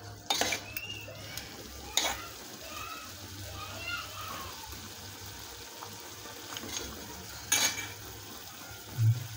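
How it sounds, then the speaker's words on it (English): Ginger and garlic are stirred in a cooking pot for beef stew, giving occasional soft utensil scrapes and clinks over a low background murmur of household sound. "So I'm gonna stir it."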